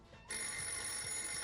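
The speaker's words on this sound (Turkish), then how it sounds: "Anne bu telefon bizimkisi mi yoksa yılbaşı destek hattımız mı çalıyor?" A telephone rings at home, a bright sustained electronic ring that starts suddenly and holds steadily over faint room noise.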